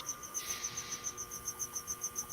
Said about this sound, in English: It's not loud enough to drown out the crickets, though.